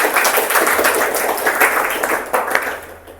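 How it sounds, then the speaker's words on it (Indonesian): Replayed applause from an audience, a dense steady clapping wash at moderate loudness that thins out toward the end. "macam mengganggu sekali tepuk tangan."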